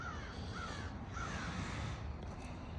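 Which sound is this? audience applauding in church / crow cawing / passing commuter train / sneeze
crow cawing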